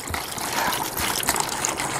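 Beer with a settled yeast layer from a one-gallon homebrew batch being poured into a container, a steady gushing, splashing liquid flow that stays fairly loud throughout.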